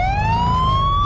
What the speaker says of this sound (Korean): 이렇게 사이렌 딱 끄고 가다가 이렇게 갑자기 딱 치면은